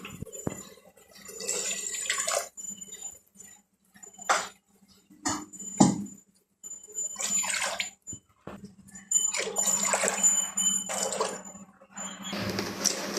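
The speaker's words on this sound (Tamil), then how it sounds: "ரெண்டு கிளாஸ் ரைஸுக்கு நான் நாலு கிளாஸ் தண்ணி விட்டு போகிறேன்" Water poured from a glass into a pot for pulao, several separate splashing pours in bursts with short quiet gaps between them, close up in a kitchen.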